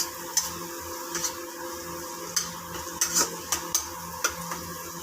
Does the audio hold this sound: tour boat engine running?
no